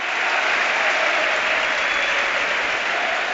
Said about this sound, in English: Costa runs out to really good applause from the home supporters.